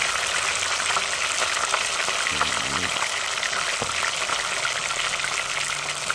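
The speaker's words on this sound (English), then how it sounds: "And I'm gonna fry it." Fish sizzles steadily in a frying pan, a loud, continuous crackling hiss filling the whole stretch with no talk.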